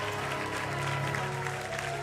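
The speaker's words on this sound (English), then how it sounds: "Continue to clap your hands for them." A church congregation at a worship service claps hands in continuous applause, a dense, even patter of many hands filling the room, with faint voices underneath.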